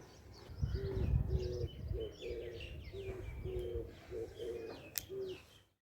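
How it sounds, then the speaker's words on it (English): A Ghuguti bird coos from a cedar tree outdoors, a repeated soft low call of several evenly spaced notes at moderate distance, with faint chirps from other birds behind it. "On this cedar tree, a bird is chirping, and locally we call this bird Ghuguti."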